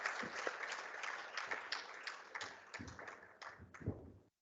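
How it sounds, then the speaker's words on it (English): An audience at a school ethics bowl final claps for participants, moderator and judges, a dense patter of hands with distinct individual claps that thins out and stops near the end. "Can we give a big round of applause for all the participants,"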